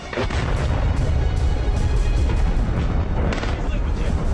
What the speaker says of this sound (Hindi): हमले के जो वीडियो सामने आए हैं उसमें धमाकों की आवाज के साथ साथ धुएं का गुबार तर दिख रहा है।